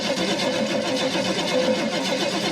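A car engine fitted with a new flat tappet cam and a carburetor runs at a steady, even idle, a dense, loud, close mechanical drone with a fast regular pulse and no talk.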